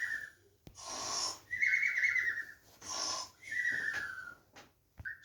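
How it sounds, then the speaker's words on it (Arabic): A sleeping man snores loudly and close by in a staged scene. Three long, wheezy breaths each end in a whistling rasp, separated by quiet gaps, with a short snort at the end. "بيشخر وبينام احسن نومه"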